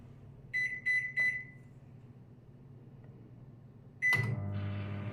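A microwave oven, set for three minutes to dry coriander and fenugreek leaves, gives three quick keypad beeps, then after a pause another beep followed by the steady low hum of the oven starting up, quiet and nearby.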